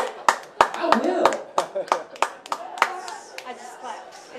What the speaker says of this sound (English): I just clapped.